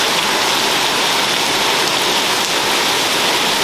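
Steady, dense rain falls on a stainless steel surface on a front porch, a loud continuous hiss and patter with no pauses and no voices.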